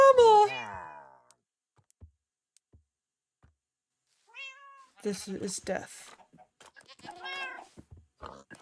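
Cats meowing inside a video game, a close, loud run of meows opening the clip, then quiet with faint clicks before people talk over more game sounds.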